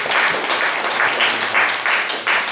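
A church congregation breaks into long, loud applause at a fellowship service, thick continuous clapping in swelling waves close by.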